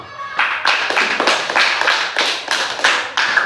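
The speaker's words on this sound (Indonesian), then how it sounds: "Tepuk tangan kita semua." An elementary school class claps together in a classroom, with a series of sharp, uneven hand-clap bursts close by that keep going steadily for a few seconds.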